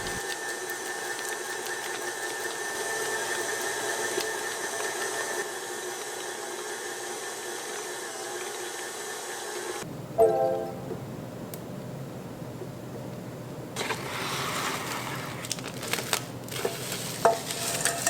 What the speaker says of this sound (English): If you're using a stand mixer like us, knead it for about 10 minutes or until it's smooth